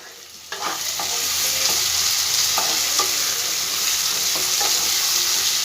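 A large chopped tomato is tossed into onions frying in a pan for a chicken changezi, and the pan sizzles steadily and loudly while a spoon stirs with repeated scraping clicks.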